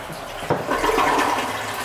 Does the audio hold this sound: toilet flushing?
yes